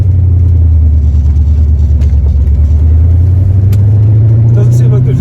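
A C4 Corvette fitted with coilovers driving on a road, its engine a loud steady low rumble from inside the car, with a slight rise in pitch toward the end.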